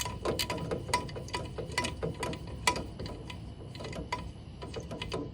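A ratchet turning a bolt one-handed, with a steady series of light, quick metallic clicks repeating over several seconds, close and fairly quiet.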